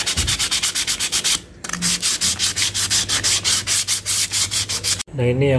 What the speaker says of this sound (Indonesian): rumah roller yang sudah diamplas halus ya, jadi dia rata